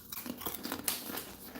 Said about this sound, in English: Sorry if you hear crunch in the background.